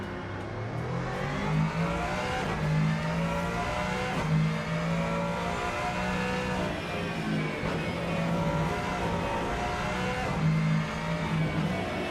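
Race car engine in the sim racing game Rennsport, revving and shifting continuously with rising and falling pitch, loud and steady with no voices.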